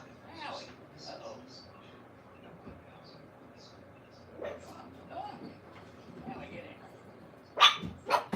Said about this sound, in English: Sorry, the puppies are outside.